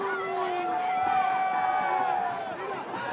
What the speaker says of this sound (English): A good crowd in, and it is a nice and vocal crowd here.